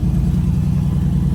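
A 2016 Mercedes-AMG E63 S wagon's V8 on a cold start, a loud, close, deep burbling engine rumble pulsing evenly for a moment with no talk.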